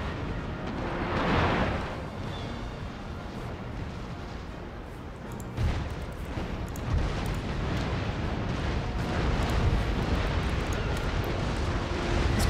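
A sailing warship fires cannon broadsides in the naval battle game Empire: Total War, a dense rumbling barrage of overlapping booms rolling on for several seconds, loud and continuous with a sharper blast partway through.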